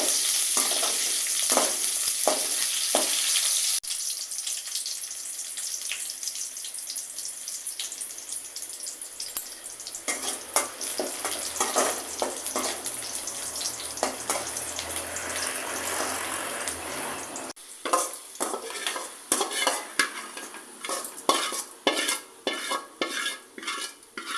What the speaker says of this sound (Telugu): ఆ పోపులో కూడా వేయించుకోవాలి ఎరగడ్డ